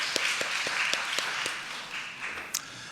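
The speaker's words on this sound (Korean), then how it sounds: "하나님께 영광의 박수 올려드리겠습니다" A church congregation claps during a Sunday worship service, a scattered round of individual hand claps with a few sharper accents, fairly close and without voices over it.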